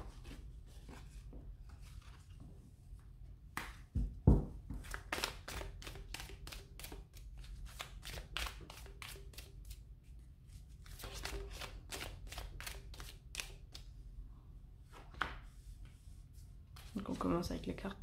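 Tarot cards are shuffled and handled in a series of quick riffling bursts and soft taps, fairly close and quiet, with a person speaking intermittently over them.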